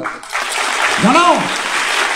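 An audience at a student gathering claps in a sustained, close burst of applause, and a single voice whoops briefly partway through.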